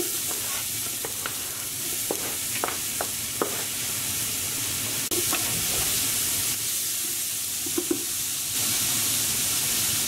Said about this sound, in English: once your oil's hot, we're going to add our onion and capsicum straight in